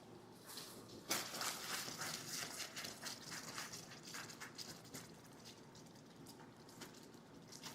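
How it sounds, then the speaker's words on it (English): Quiet, steady sizzling with scattered crackles and pops as gravy bubbles in a hot pan, with no talking. "The sound of sizzling gravy."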